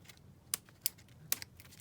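Scissors cut out a paper craft envelope, making three or four quiet, sharp snips spaced unevenly against a near-silent background.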